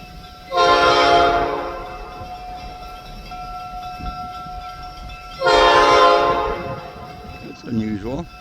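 A locomotive horn sounds two long loud blasts several seconds apart on a nearly 100°F day, with a rumbling engine between them and a voice speaking briefly at the end.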